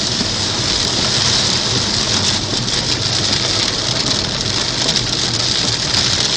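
Heavy tropical rain hammers a moving car in a constant dense roar. The drumming on the roof and glass is loud and unbroken for the whole stretch, with no one talking.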